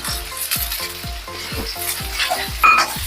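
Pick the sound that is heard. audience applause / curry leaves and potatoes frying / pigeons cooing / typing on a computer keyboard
curry leaves and potatoes frying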